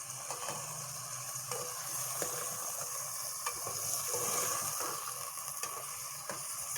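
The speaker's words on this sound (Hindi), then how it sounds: "लौंग, बड़ी इलायची और दालचीनी को चिकन के साथ ही फ्राई करना है" Chicken frying in a pan with cloves, black cardamom and cinnamon, a steady hiss of sizzling oil with occasional scraping clicks of a stirring spoon, close and continuous.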